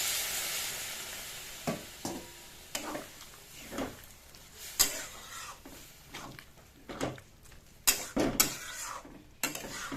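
Rajma is stirred while frying in a pan, a soft sizzle underneath repeated spoon scrapes and metallic knocks against the pan at irregular intervals, close and fairly quiet.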